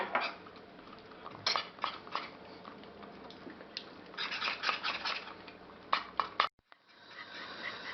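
A spoon clinks and scrapes in a pan while a seasoned mixture with pepper and salt is stirred for Adana kebab, with irregular metallic taps and a brief cutoff near the end.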